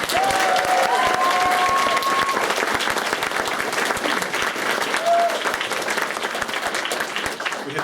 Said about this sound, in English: Please clap all of our event organisers